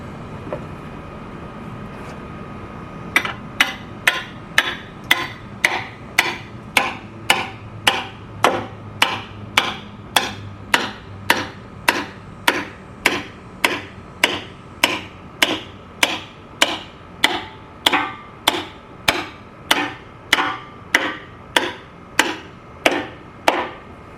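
Steady, evenly spaced hammer blows drive a nail into a wooden chicken nest box, about one or two per second, loud and close, continuing for over twenty seconds.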